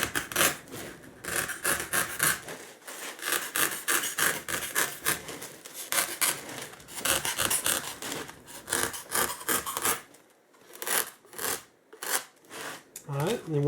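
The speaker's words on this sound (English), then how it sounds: "You're just putting a small bevel on it, and you're not cutting very much off." A blade or file bevels the edge of a wooden part for a scale Warhammer 40k Earthshaker artillery emplacement model: repeated short rasping strokes, close and uneven, with someone talking over parts of it.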